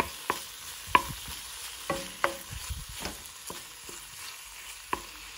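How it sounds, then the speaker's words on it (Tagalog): Food frying in butter in a pan crackles softly as a utensil stirs it, with a handful of distinct scrapes and taps spaced over a few seconds. "Tapos, haluin natin."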